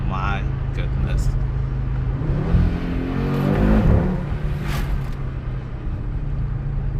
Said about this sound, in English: The thing about this engine, it's so characterful